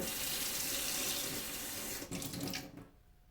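Tap water runs into a cooking pot with a full, steady rush that shifts slightly in tone as it fills, then stops after about three seconds, with no talking.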